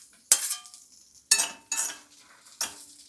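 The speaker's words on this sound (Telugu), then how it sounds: "ఫస్ట్ ఉల్లిపాయలు వేస్తున్నాను" Chopped onions drop into a hot pan as the first ingredient for an onion chutney, giving a few sharp clattering bursts with brief sizzle and utensil clinks in between, close and fairly quiet.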